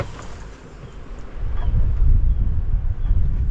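Wind gusts rush and rumble around a sailboat beating upwind, with low buffeting that swells midway and stays loud and steady to the end.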